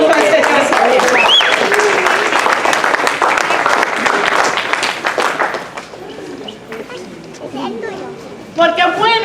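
A church congregation applauds the Lord, dense clapping filling the space and slowly thinning out, with a voice speaking over it toward the end.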